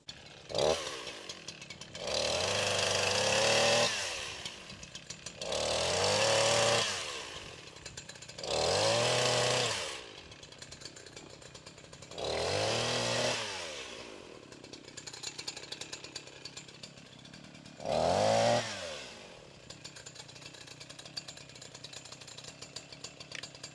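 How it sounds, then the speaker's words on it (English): A Stihl chainsaw cuts firewood in five loud bursts of revving, each a few seconds long, separated by quieter idling stretches. "Will you run this saw?"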